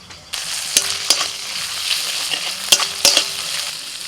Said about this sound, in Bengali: পেঁয়াজটা ভাজা হয়ে গেছে এখন দিয়ে দিচ্ছি আদা রসুন বাটা